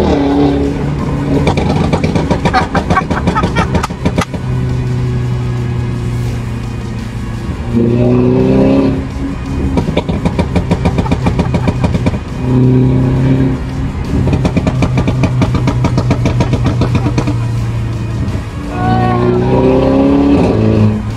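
A car engine revs up hard in repeated surges, each climbing in pitch as it accelerates, loud and close, with brief lulls between pulls.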